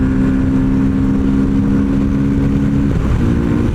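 An Orcal 125 Tabor motorcycle from 2026 drones loudly at about 70 km/h in sixth gear on a rural road, its single engine tone holding steady and close, thick with wind rumble, then dipping briefly near the end.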